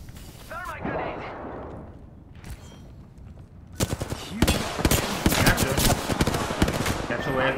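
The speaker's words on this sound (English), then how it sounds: "Thermite grenade!" A thermite grenade in Apex Legends Season 11 erupts into loud, dense crackling and popping fire after a quieter stretch with faint game sounds, building to a harsh, sustained roar.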